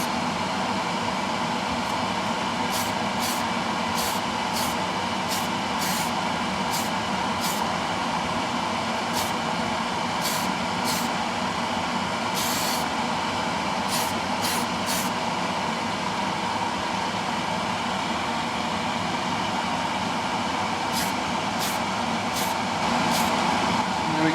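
Lacquer-based primer sprayed onto parts of a Tamiya 1/6 Yamaha YZ250 motocross model kit, a steady loud hiss with repeated short bursts of spray throughout.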